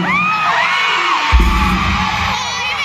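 Fans at a fan meeting event cheer loudly, a bright mass of high-pitched screams and whoops filling the room, with a sudden thump partway through as the cheering carries on close and loud.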